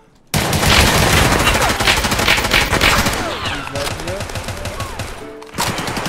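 Video game gunfire in a tactical shooter, loud rapid bursts of automatic fire that fade to scattered shots, with voices talking over it.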